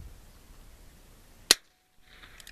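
A single sharp shot from a Heritage Rough Rider 3-inch bird's-head .22 revolver, fired once at about one and a half seconds: a quick crack, light and fairly quiet, with a brief decay, then silence and faint background noise.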